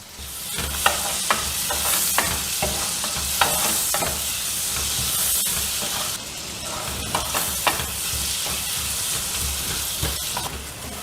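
Onions frying in oil with cloves and cinnamon while being stirred, a steady close hiss and sizzle with repeated light scraping clicks of a spoon against the pan throughout.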